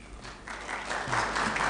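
Brief, fairly quiet applause from an audience after a speech at a water privatisation coalition event, a soft wash of clapping that swells over under two seconds.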